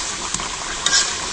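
Food being stir-fried on a clay stove until its water dries, a loud continuous sizzle with a couple of brief scraping stirs close up.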